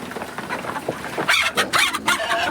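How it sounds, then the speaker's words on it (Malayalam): Native hens clucking and squawking nearby, a few short cackles rising into louder bursts of calls toward the end. "നാടൻ കോഴികളാണ്"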